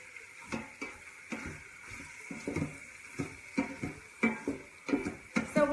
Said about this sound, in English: we're gonna stir that around and get it nice and brown